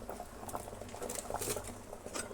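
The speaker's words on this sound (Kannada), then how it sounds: "ಒಗ್ಗರಣೆ ಒಂದು ಸ್ವಲ್ಪ ಹಾರಲಿ." Tempering spluttering in a pan for sambar, rapid close popping and crackling bursts over a soft bubbling hiss, uneven and fairly quiet.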